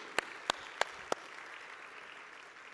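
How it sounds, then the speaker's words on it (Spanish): Four crisp, evenly spaced claps ring out at a church service, sounding moderately faint over a steady room hiss, then the hall settles into quiet noise. "Dale un fuerte aplauso al Señor"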